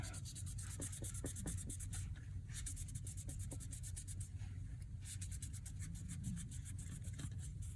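Material is rubbed by hand into a vintage Waterman fountain pen cap, giving a steady, close, dry scratchy rubbing with small ticking strokes throughout and no talking.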